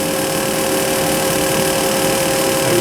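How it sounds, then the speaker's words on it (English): A K.O. Lee B1020H CNC universal cylindrical grinder starts its table cycle with a steady, loud mechanical hum and whir, and sharp tonal lines run through it without a break. "I think if I hit cycle start, turn on the table, it should go"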